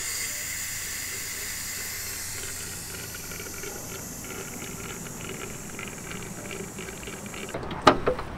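A steady rushing hiss of water running into a 40-litre campervan tank, continuous and even, ending with a few clunks near the close.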